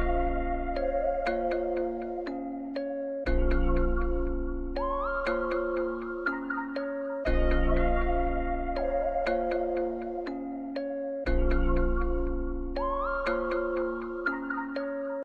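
An FL Studio beat section layering a guitar part with a synthy, plucky accent, repeating in a looping cycle of bell-like plucked notes over a deep low-end hit that returns every few seconds, steady and moderately quiet.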